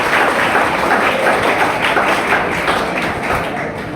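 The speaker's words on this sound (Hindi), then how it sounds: "तालियां बजाओ भाई के" An audience of students at a drug-awareness event at an ITI in Julana applauds without a break, a dense, loud stream of clapping with no talk.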